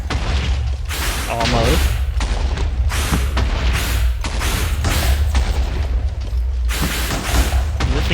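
Repeated booming explosions from a Minecraft mob battle, the Wither fighting Nevermine giants, come in heavy bursts roughly every second, loud and close, with a voice briefly over them.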